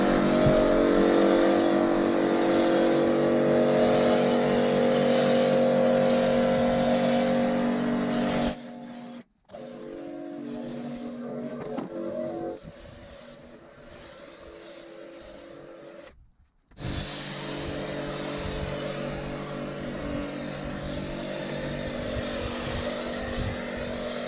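Loud, steady mechanical whine of a pressure washer spraying snow foam onto a matte-paint BMW, with two abrupt pauses where it cuts out before resuming.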